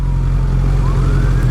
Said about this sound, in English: There's still sirens.